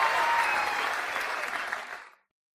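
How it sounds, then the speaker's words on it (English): A burst of dense applause from a crowd, loud and steady for about two seconds, then quickly fading out to silence. "Give us a round of applause."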